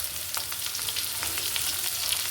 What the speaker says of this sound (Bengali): আমি এখানে দিয়ে দিয়েছি তেলটা গরম হওয়ার পর মিডিয়াম সাইজের একটা আলু